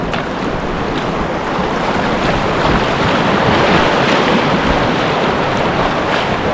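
River rapids rush in a steady loud broadband roar, close by with gusty wind buffeting the microphone and no voices.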